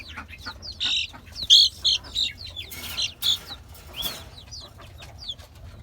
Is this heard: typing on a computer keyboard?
no